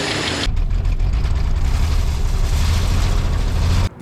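An old Jeep engine idling steadily, a loud, close, low rumble that runs continuously before cutting off near the end.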